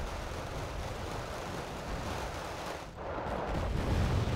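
Artillery bombing run in the real-time strategy game Wargame: Red Dragon, a continuous heavy rumble of distant explosions and gunfire with a brief dip before the barrage swells louder toward the end.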